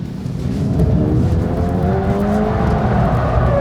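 A 2025 Toyota GR86 engine roars steadily while tires squeal with a rising, wavering pitch during a 180-degree spin, loud and close, with no voices.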